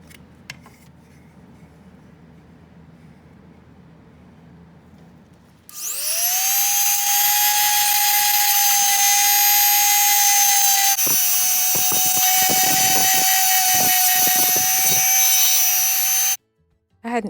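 A quiet room gives way to a loud high-pitched power drill carving a wooden lemon slice, whining steadily for about ten seconds, its pitch wavering under load, then it abruptly stops.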